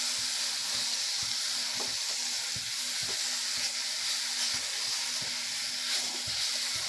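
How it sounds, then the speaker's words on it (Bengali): Potato chunks and raw mango with salt and turmeric fry in a pan in a steady, hissing sizzle. Soft knocks from stirring come through every second or so, with no talk. "আলুগুলো দিয়ে আবারও আমটাকে একটু কষিয়ে নেব, যাতে আলুগুলোর মধ্যে নুন হলুদটা ঢুকে যায়।"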